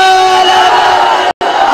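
A large crowd at a religious gathering shouts the chant Naara-e-Risalat in unison, a loud sustained roar of voices broken by one abrupt silent gap.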